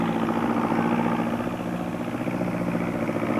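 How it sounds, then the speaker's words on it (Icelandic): A tractor engine runs steadily and loudly throughout, a continuous low mechanical drone with no pauses and no voices. "kom þarna á dráttarvélinni sinni"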